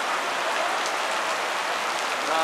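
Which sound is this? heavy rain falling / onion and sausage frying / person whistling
heavy rain falling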